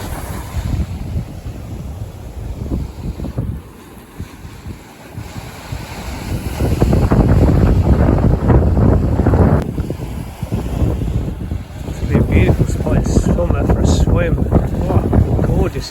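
Wind gusts buffet the microphone along the sandy shore of a Rottnest Island bay, a steady roar that swells louder partway through, with waves and boat sounds mixed in and voices briefly present.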